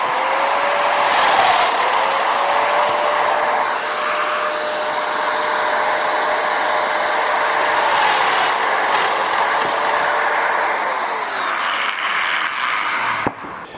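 A Festool Domino joiner cuts a mortise into a shelf board, its steady high motor whine running loud and close for over ten seconds with slight pitch shifts before stopping abruptly.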